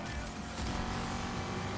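V8 engine in the Need for Speed driving game, roaring steadily and loudly with a slight surge partway through, sustained without a break.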